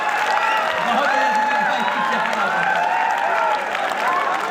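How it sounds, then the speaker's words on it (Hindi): Dense applause from a seated audience at a Hindi poetry gathering, steady and sustained throughout, with a voice speaking over the clapping. "आप लोग भी बजा सकते हैं तालियां।"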